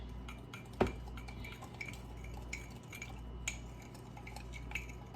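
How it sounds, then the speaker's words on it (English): A utensil stirs a homemade toothpaste mixture in a pint jar, giving soft scraping and occasional clinks against the container, with one sharper knock near the start. "And just keep stirring, get it nice and saturated."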